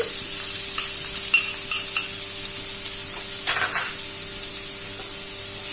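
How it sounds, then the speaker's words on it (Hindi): Two onions sautéing in a hot pan for a restaurant-style Patiala chicken, giving a steady close sizzle with a few scraping stirs of a utensil against the pan. "अब इसको अच्छे से गरम हम सौते कर लेते हैं, अच्छे से इसको ब्राउन होने देते हैं।"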